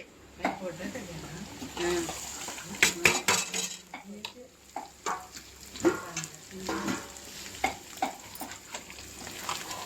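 Thinly sliced onions frying in a pan for potato kurma, loud sizzle with frequent metal spoon clatter and scraping against the cookware, close and busy throughout.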